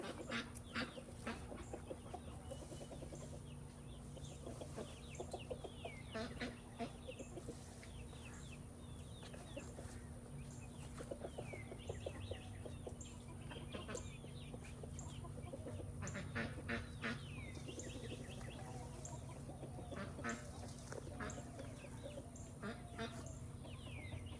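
Chickens cluck and chatter inside a backyard coop, a busy mix of overlapping calls and rustling with a steady background hum, loud and close throughout.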